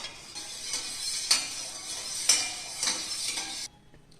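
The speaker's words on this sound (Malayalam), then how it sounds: "നമുക്കിതിങ്ങനെ ഇളക്കി കൊടുക്കാം" A spoon scrapes and clinks against a bowl in soft, steady strokes while stirring custard, with a few sharper taps, then the sound stops abruptly.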